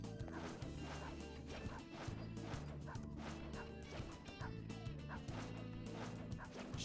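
A dog barks in Persona 5 Royal, a few sharp yaps rising over a dense, steady bed of game music and effects.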